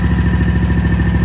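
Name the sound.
Scag ride-on mower Kawasaki engine idling on tick over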